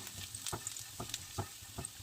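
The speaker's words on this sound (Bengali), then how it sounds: "ঘিটা একটু গরম হয়ে গেলে দিয়ে দেবো একটু রসুন কুচি আর একটু আদা কুচি" Chopped garlic and ginger fry quietly in hot ghee in a frying pan, a soft low sizzle punctuated by several brief stirring knocks, close but faint, with no voices.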